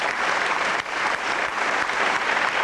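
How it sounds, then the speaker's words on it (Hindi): Loud, continuous audience clapping at a kavi sammelan poetry gathering honoring Amitabh Bachchan's verse, thick and even throughout with a brief dip partway. "मैं चाहता हूं कि उनके लिए भी आप जोरदार तालियां बजाएं।"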